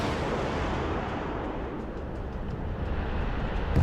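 Missiles launching in the video game Broken Arrow, a continuous dense roar of rocket exhaust and rumbling fire sustained at steady loudness throughout.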